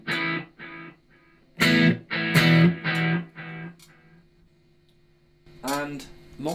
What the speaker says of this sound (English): Tape echo.